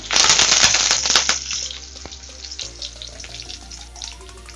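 Cumin, garlic and curry leaves hit hot oil for a spicy tomato chutney, giving a loud, crackling sizzle at first that settles into a steady, quieter fry with no talking.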